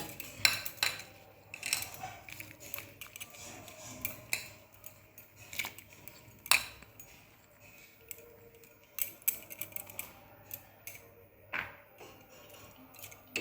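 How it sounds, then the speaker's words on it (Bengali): Gobindobhog rice stirred through thickened milk in a pot for payesh, a close run of irregular metallic clinks and taps as a spoon scrapes the pot, over a quiet background with no talking. "চালটা দেওয়ার পর এভাবে নাড়াচাড়া করতে হবে।"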